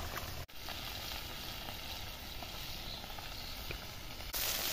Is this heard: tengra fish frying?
yes